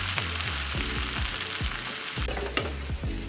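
Rice fries in a pan for a Thai-style pineapple rice, a bright sizzle under a run of rhythmic scraping and knocking strokes as it is stirred, close and fairly loud.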